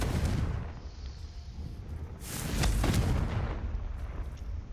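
A Confringo fire spell blasts in Hogwarts Legacy, a loud booming explosion that swells in a broad roar after a rumbling start and lingers as a heavy crackling tail.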